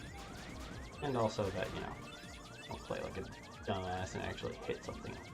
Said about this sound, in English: I apologize for the incessant beeping.